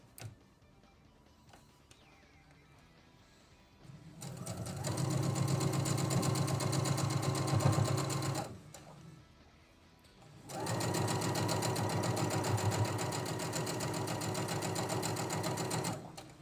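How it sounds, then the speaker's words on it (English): A sewing machine stitches fabric pieces together in two sustained whirring runs of about four and six seconds, separated by a short quiet pause, with no speech. "we just gotta sew these last two pieces up together"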